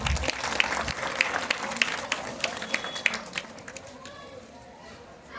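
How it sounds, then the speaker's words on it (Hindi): Audience members at a Tulsi Pujan gathering clap in a moderate, uneven round of applause that thins out and fades toward the end. "तो एक बार इनके लिए जोरदार तालियां।"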